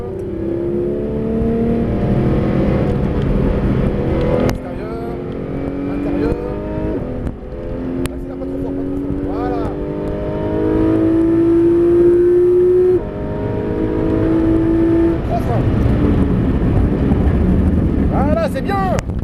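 A Porsche 911 GT3 RS (991) on the Clastres circuit braking hard and downshifting, engine note dropping with rising blips over sustained wind rush, close and loud, while an instructor talks throughout.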